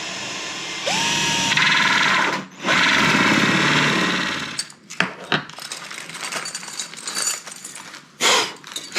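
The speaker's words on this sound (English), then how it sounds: "just cutting the hinges into the doors" A loud, whining power tool cutting hinge recesses into doors runs continuously for a few seconds, stops briefly, then resumes with rough bursts of cutting and mechanical clatter, close by.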